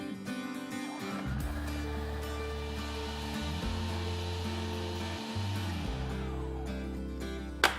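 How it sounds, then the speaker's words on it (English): Bajaj food processor chopping a mix of cauliflower, carrots and green cabbage, a steady loud motor whine that shifts pitch in stages as the blades work through the load, running continuously without talk. "For that, I'm going to use a Bajaj food processor."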